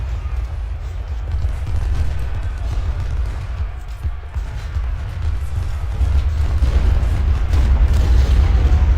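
Cannon fire in the Ultimate General: Civil War battle game, a steady low rumble of repeated booms and artillery blasts that continues loudly for the whole stretch, with no talk over it.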